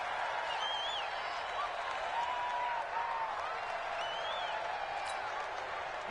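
Stadium crowd at a Colts vs Ravens football game, a steady, dense roar of many voices and scattered cheers holding at an even level throughout, with whistle-like shouts rising above it.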